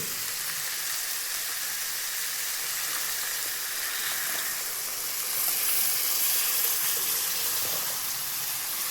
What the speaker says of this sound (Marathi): आता मी टाकणार आहे दूध